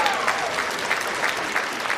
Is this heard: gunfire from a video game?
no